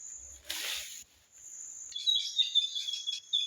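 Birds sing out in nature, a burst of rasping call followed by a run of high, thin chirps and trills, fairly close and clear over otherwise quiet surroundings.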